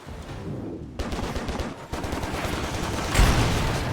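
Gunfire in the video game Stranglehold cracks out in rapid, dense bursts, loud and sharp, with short breaks between volleys and a heavier blast near the end.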